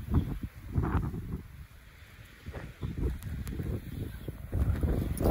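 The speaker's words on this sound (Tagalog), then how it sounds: "Ang lakas ng hangin." A strong whirlwind gusts hard across the microphone in heavy, uneven rumbling bursts that swell and ease, with the loudest buffeting at the start and end and a brief lull in between.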